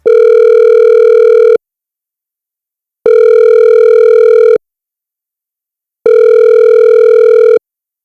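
A steady telephone dial tone sounds in three long, even pulses of about one and a half seconds each. Silent gaps of similar length separate the pulses, and the tone is loud and close with no talking.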